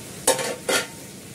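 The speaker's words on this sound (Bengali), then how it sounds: "করলা ভাজাটা এখানে করবো" Bitter gourd frying in a pan, two quick scraping stirs over a soft sizzle, close and brief with no voices.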